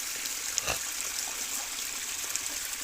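Continuous trickling water with a light gushing hiss as a fish tank is drained, steady throughout, with a brief bubbly gurgle near the start.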